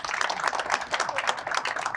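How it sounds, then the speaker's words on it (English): An audience at a panel discussion on video advertising breaks into brief, dense applause, a fairly even wash of many hands clapping from a moderate distance. "Let's give her a round of applause."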